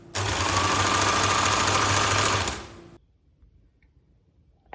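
Sewing machine running steadily while stitching a dart in dress fabric, a loud continuous whirring hum for about two and a half seconds before stopping abruptly into near silence.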